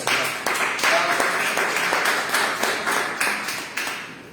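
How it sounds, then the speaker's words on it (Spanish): Church congregation clapping in praise to the Lord after a sermon, a loud, close, rhythmic burst of many hands beating in a steady pulse that gradually tapers, with no speech over it. "den un fuerte aplauso al Señor"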